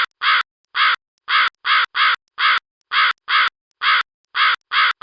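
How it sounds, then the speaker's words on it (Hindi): A crow perched in a nearby tree caws loudly again and again, a dozen harsh, evenly spaced calls in quick pairs and runs, close and alone with no talk. "अचानक पास के पेड़ पर बैठा कौआ जोर जोर से काऊ काऊ करता है।"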